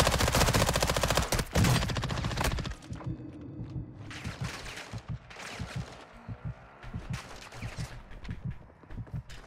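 Rapid bursts of gunfire crackle loudly at first in the video game Warzone 2, then scattered shots and thuds continue more quietly, with a synthetic game-like quality.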